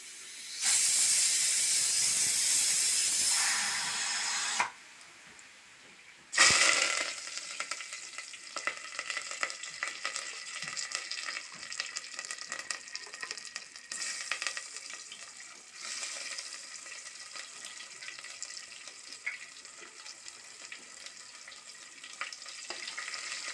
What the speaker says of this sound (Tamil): கடுகு போடுறேங்க கடுகு பொறிஞ்சிட்ருக்குது